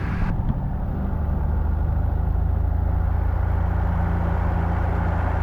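A 1967 light airplane's piston engine runs up before takeoff, the propeller droning loud and steady at raised RPM after a brief rise at the start, with no voices over the continuous roar.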